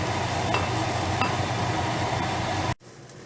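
Vegetable cheese bread cooking in a pan gives a steady, close sizzle that runs evenly, with a couple of faint clicks, then cuts off abruptly near the end.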